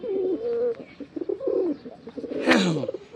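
A pair of red-and-white pigeons in a loft, giving soft, low, repeated coos up close, with a louder rising flutter-like call near the end.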